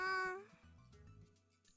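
A cute, high-pitched meow opens the clip, likely a cat sound effect in the visual novel Steins;Gate, followed by soft, low murmuring voice sounds.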